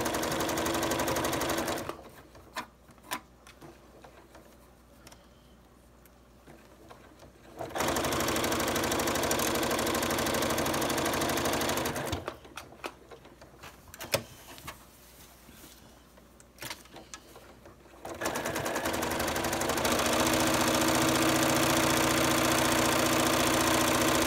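A sewing machine stitches across the top seam of a children's apron in two long, steady whirring runs separated by quiet pauses, loud and close, with no talk.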